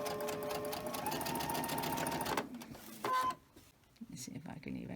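A sewing machine runs a fast, rattling stitch on quilt fabric, close up and steady for a couple of seconds, then stops. Brief clunks and low shuffling sounds follow while a voice talks quietly.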